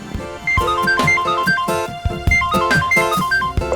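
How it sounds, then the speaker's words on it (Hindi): A mobile phone rings with a bright, melodic electronic ringtone that repeats short tonal phrases over a beat, loud and close, playing alone with no voices. "किसका फोन है?"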